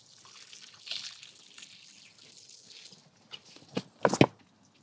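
Water splashes over small Wuben D1 and G1 flashlights in a water test, with soft running-water hiss followed by a few sharp splashing bursts near the end.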